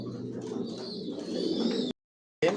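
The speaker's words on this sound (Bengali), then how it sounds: "আপনাদের তো আমার লফের সব কবুতর বর্তমানে সুস্থ সবল ভালো আছে" Pigeons in a racing pigeon loft coo softly and repeatedly, close by, with a short break of silence before the cooing resumes.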